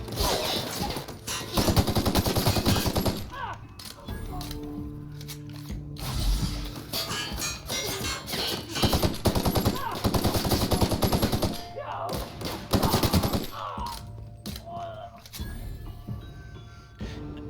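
Rapid assault rifle gunfire in The Outer Worlds, dense bursts of shots with mechanical clatter, loud and up close, broken by short pauses, with a voice talking at times.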